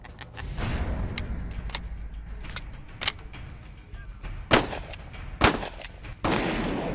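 A Benelli M4 shotgun fires at a bowling ball outdoors, with several loud, sharp blasts spaced a second or so apart and smaller cracks and impacts in between.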